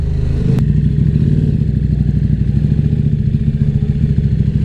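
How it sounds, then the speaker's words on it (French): A KTM 1190 RC8 R twin-cylinder sportbike loud and close, its engine throbbing in a steady pulsing rumble with a deep, Harley-like cadence and a sharp click near the start. "Ça fait un bruit de Harley."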